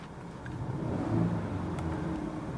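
Gen 3 Ford Raptor exhaust in quiet mode, a steady, subdued engine hum with a slight swell in the middle, heard alone without talk.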